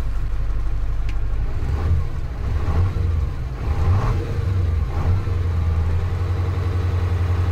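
A Kamaz 4310 6x6 truck with a sleeper cab and winch, being brought back to life with an oil pressure fault, revs its engine in several rising and falling surges over a rough, rumbling idle, close and alone.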